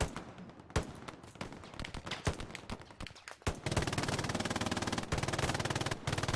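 Machine gun fire in an 18-versus-18 multiplayer video game, several scattered shots early on, then a sustained rapid automatic burst for the last few seconds, fairly faint overall.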